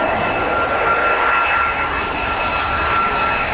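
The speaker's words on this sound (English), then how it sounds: "F-35As are just something else, aren't they?" F-35A fighter jet engine at the 48th Fighter Wing, RAF Lakenheath, roaring as one steady, loud, broadband rumble with a sustained whine on top, unbroken and constant for the whole stretch with no talking.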